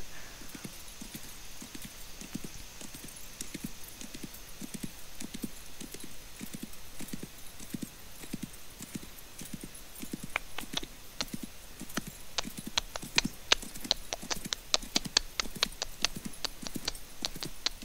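Steady rhythmic clip-clop of a video game horse's hooves, a regular trotting beat that continues throughout and grows sharper near the end, over a faint background hum.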